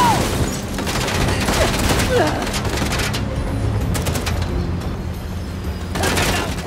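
Rapid bursts of gunfire crackle through a vehicle chase in the Uncharted The Lost Legacy video game, the shots repeating in dense volleys while voices talk over them.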